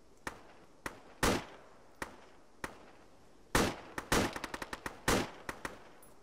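Gunfire in the tactical military video game ShackTac: scattered sharp single shots, then a quick volley of rapid cracks and a few final reports, fairly close and loud, with no talking.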